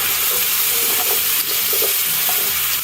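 Curry powder, about a tablespoon of hot curry powder, being stirred around in a hot pan, with a steady sizzle and scraping stirs throughout, close and fairly loud.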